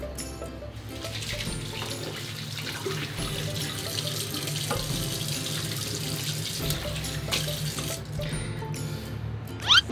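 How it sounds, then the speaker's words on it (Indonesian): A tap runs steadily while hands are washed under the stream, a continuous close splashing rush that lasts throughout, with a brief louder splash at the very end. "jangan lupa cuci tangan ya, minimal 20 detik"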